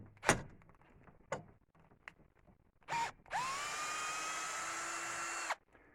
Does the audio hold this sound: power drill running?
yes